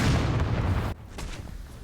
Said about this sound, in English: Where am I getting shot at from?